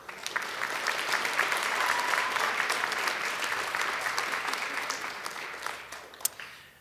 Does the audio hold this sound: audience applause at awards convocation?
yes